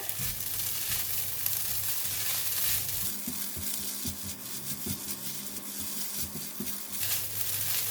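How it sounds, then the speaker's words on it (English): Rice stir-fried in a pan with salted fish, chili and garlic for Chinese fried rice, a steady sizzle broken by repeated close scraping and stirring strokes. "Now we're going to stir in the salted fish and the chili and the garlic."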